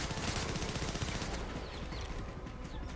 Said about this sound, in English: Someone else shooting?